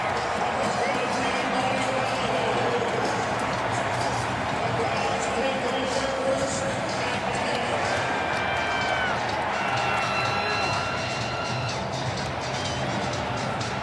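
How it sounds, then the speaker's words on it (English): A packed NFL stadium crowd at a Panthers at Browns game roars in a steady, dense wall of cheering after a fourth-down defensive stop, loud and continuous with no break. "And this crowd is on its feet."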